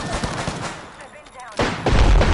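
Gunfire in the video game Apex Legends, a few quick shot bursts followed by a louder, heavier volley near the end, with a voice briefly heard among the sounds.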